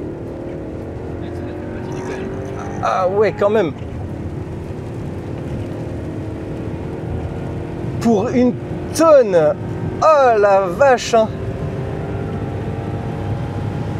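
A BMW 745i E65 sedan on 21-inch wheels accelerates hard, the engine note climbing through several rising sweeps heard from inside the cabin, with people talking excitedly between the pulls.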